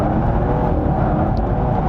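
BMW M4 GTS engine and exhaust holding a steady, dense drone with small throttle variations during drifting, continuous and close with no voices.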